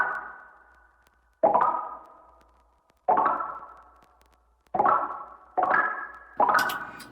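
A beat instrument made from a chopped, reversed breathy vocal sample, heard as five soft plopping, bouncing hits with swelling tails, spaced unevenly and played alone.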